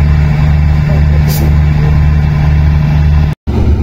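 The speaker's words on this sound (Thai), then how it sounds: "ก็เร่งเครื่องนะครับเร่งเครื่องทำลม เพื่อสร้างลม ห้ามล้อนะครับให้กับขบวนรถ ยาพิตาชิ4510นะครับ" A Hitachi diesel locomotive, number 4510, revs its engine at Kantang station to build brake air for the train, giving a loud, steady low drone with a brief dropout near the end.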